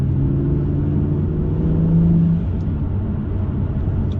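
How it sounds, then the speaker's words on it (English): A BMW M2 engine revs with a loud, low rumble and a rising turbo whoosh that drops away partway through, then settles into a steady drone. "Got a lovely whooshing noise from the turbo as well when you put your foot down."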